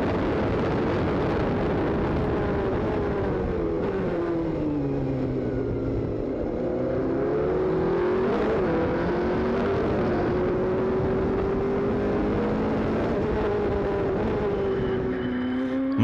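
Race cars lapping Sepang circuit during the Asian Le Mans Series 3 Hours, a steady loud engine drone with pitch sweeping up and down through gear changes as cars pass and lap slower traffic, continuous throughout.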